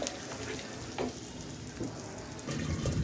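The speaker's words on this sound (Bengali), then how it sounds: "এখন এটাকে ভালো করে আবার একটু ভুনে নেই।" A spinach and egg mixture sautéing in a pan gives off a soft, steady sizzle, fairly quiet, with a few faint clinks and scrapes of stirring.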